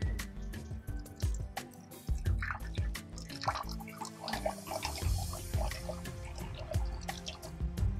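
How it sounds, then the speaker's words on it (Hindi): Water poured and dripping into containers in a doll-play household scene, splashy drips and trickles under busy background music. "चलो मैंने दोनों पे पानी भर दिया है"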